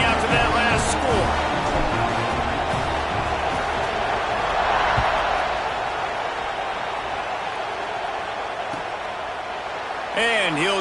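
Football stadium crowd after a touchdown, a broad continuous roar of voices filling the background while a commentator talks over it, with faint whistle-like tones near the end.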